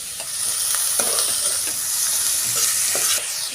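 Steady hiss of chopped bell peppers sizzling in a hot pan, with a few soft clicks of stirring scattered through, no voices.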